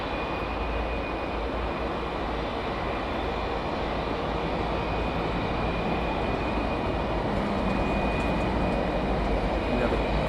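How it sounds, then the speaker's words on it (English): A Kuwait Airways Boeing 777 airliner at Heathrow Airport produces a steady, even roar of distant jet engines that holds at one level throughout without rising or fading. "We have a Kuwait 777 lined up, British Airways, let's say 74 then. 777 lined up."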